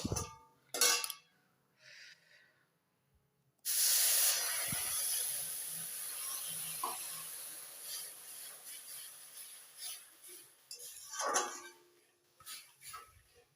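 Water splashes into a hot frying pan of sugar, salt and vegetables, setting off a sudden loud, sustained hiss of steam that slowly fades, with a few short clatters before and after.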